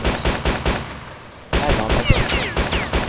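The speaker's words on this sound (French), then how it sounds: "Et clic gauche pour tirer. Donc là ça tire en rafale." M16 rifle bursts in a DayZ mod video game: loud rapid-fire volleys with sharp repeated cracks, a short lull in the middle, then another sustained burst with ricochet-like whines.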